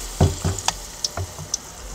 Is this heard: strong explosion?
no